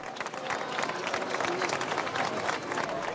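A public crowd applauds parading troops, including the Guardia Civil and the Spanish Legion, in a dense, steady wash of clapping held at an even level throughout.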